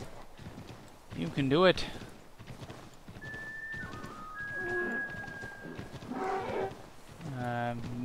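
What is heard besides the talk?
horse hooves and whinny in Assassin's Creed 3 video game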